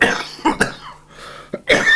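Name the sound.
cough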